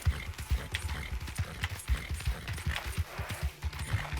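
Horse hooves clip-clopping at a walk in the video game Red Dead Online, a steady rhythm of soft, close thuds with faint mechanical game noise behind.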